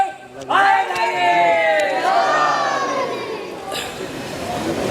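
Congregation voices erupt into the Nara-e-Haidari slogan during a religious sermon, a loud massed chant that swells sharply after a brief pause and then slowly fades.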